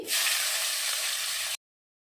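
Chopped onion sizzles loudly in hot oil with five-spice seeds, a dense continuous frying hiss for about a second and a half before cutting off abruptly.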